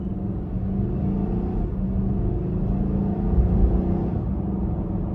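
A 2024 Nissan Armada SL Midnight Edition with the 5.6 V8 pulls hard under acceleration, a steady, loud, low engine rumble swelling slightly near the middle, heard from inside the cabin with no talking.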